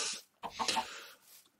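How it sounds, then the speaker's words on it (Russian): Chicken clucking in the Minecraft Sky Block game, a short close burst of clucks in the middle with quieter trailing sounds, and no talking. "Где ты, курица?"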